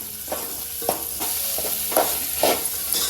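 Crabs (kurle) fry in hot oil for a traditional Konkan crab curry, a steady bright sizzle broken by several scraping stirs that come roughly every half second, close up and with no voices.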